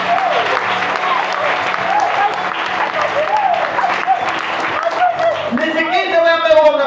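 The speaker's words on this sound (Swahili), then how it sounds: "Mungu Yesu, makofi mazuri." A church congregation at a Christian sermon bursts into brisk, sustained clapping while the preacher's voice carries on over it, and the clapping gives way to his speech near the end.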